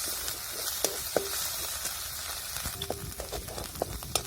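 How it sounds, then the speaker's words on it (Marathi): Cumin seeds sizzle in hot oil for a tempering, a quiet steady frying hiss broken by scattered small pops and spoon taps against the pan, with no talking. "आपल्याला जिरे तर त्याच्यातच टाकायचे फोडणीसाठी"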